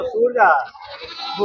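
A male goat bleats loudly nearby at a sheep and goat market, a short wavering cry followed by a second fainter call, with people talking in the background.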